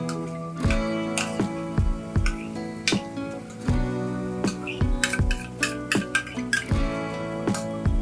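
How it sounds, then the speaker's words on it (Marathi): A spoon stirs and clinks against a metal pan while mango pulp is mixed into a jaggery filling for modak, giving repeated sharp metallic taps and scrapes in an irregular rhythm, close and fairly loud with no speech. "तो सुद्धा छान असा मिक्स करून घ्यायचा"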